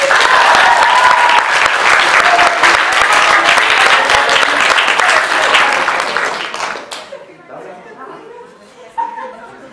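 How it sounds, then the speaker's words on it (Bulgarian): Loud, sustained applause from an audience at a school gathering of students, teachers and parents, with clapping filling the first seven seconds before it thins into scattered claps and murmuring chatter. "Аплодисменти за това!"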